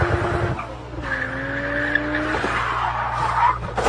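A car drifting with squealing, skidding tires, a long, loud wavering screech over engine drone, close and continuous for several seconds.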